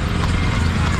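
Horse hooves clip-clop steadily and close during a horse ride in India, forming a continuous, busy rhythm under dense outdoor noise.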